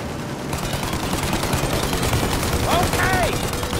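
Dense gunfire rattles in sustained bursts as shooters aim at a plane's engines in the video game Mafia: Definitive Edition, loud and continuous, with brief shouted voices near the end.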